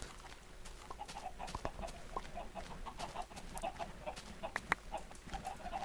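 Steady Minecraft chicken clucking from several birds, a busy scatter of short clucks and chirps over a low continuous background hum, with no talk.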